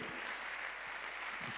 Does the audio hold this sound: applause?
yes